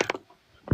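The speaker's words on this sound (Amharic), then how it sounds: "አሁን በሩም ሲከፈት ይሰማናል።" A door opens with a brief mechanical click and creak, then a second short clunk, faint and close in an otherwise quiet space.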